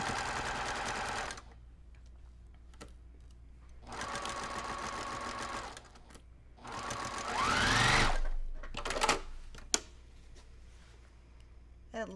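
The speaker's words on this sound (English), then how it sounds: "now I'm gonna sew this" A sewing machine stitches quilt fabric for a quilt block, buzzing in three separate runs of one to two seconds each, with quiet gaps and light handling noises between them.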